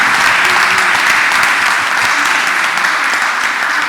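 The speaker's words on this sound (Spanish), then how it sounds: "Un aplauso ya para los organizadores y a los protagonistas de este evento." Steady, dense applause from a conference audience at a national labour-law congress, honoring the organizers and participants; loud and sustained throughout without a break.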